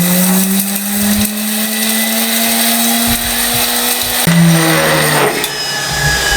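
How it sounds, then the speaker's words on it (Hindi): An electric spice grinder whirs loudly as it grinds white cumin, cinnamon and black pepper into powder. It makes a continuous high motor whine, and its pitch shifts partway through as the load changes. "इसको पहले मैं ग्राइंड कर लूं"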